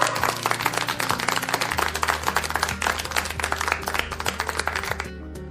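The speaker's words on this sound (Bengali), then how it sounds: "তো ওনাদের জন্য একবার জোরে একবার হাততালি দাও।" Many hands clap together at a children's clay food competition in a fast, dense patter that continues steadily, with a low humming tone underneath.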